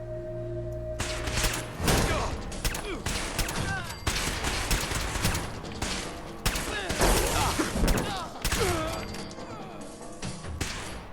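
Rapid bursts of gunfire from a Fallout 4 firefight, loud and sustained with overlapping shots, crashes and impacts, under occasional speech.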